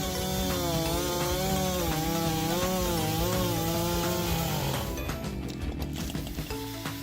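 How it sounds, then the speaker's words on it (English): A big chainsaw with a 94cc, 7.1-horsepower engine cuts through tough wood, its loud buzzing whine rising and dipping as the chain bites, then trailing off into rougher rasping near the end. "this chainsaw easily handles the toughest wood chopping jobs"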